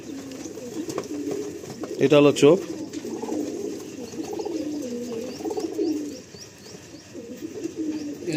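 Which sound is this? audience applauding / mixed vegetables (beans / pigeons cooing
pigeons cooing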